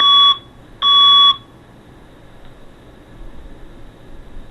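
A fire alarm sounds two loud, piercing electronic beeps in quick succession, each lasting about half a second, heard over a remote meeting call and then falling silent to low background hiss.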